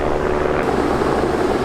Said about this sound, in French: Regardez, il y a un petit hélico.